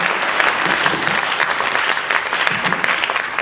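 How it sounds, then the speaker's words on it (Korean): A church revival congregation gives a loud, sustained round of applause to welcome the preacher, many hands clapping steadily and close throughout. "우리 강사님 나오실 때 힘찬 박수로 환영하시기 바랍니다"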